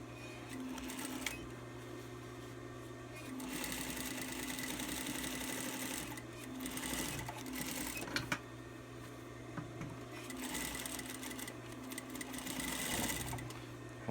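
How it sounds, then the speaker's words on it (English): A sewing machine top stitching a seam on fabric for a six-panel piece, a motor hum with rapid needle chatter running in several bursts separated by short pauses, close and clear. "We're going to do top stitching now"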